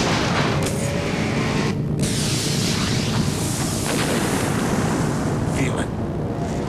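A Miller Genuine Draft Rusty Wallace NASCAR stock car roars at full power, a loud, dense, sustained engine blast with no letup.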